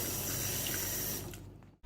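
Water from a tap runs steadily and close into a shaker holding Greek yogurt, whey protein and creatine, a brief continuous splashing stream that cuts off abruptly.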